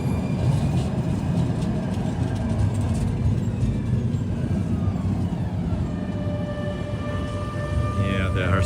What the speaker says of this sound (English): the tram is coming right now